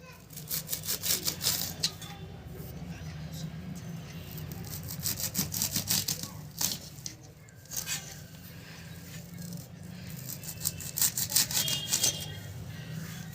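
A knife cuts through a bunch of fresh coriander in a kitchen, making repeated close rasping, crunchy strokes that come in short bursts with brief pauses between them.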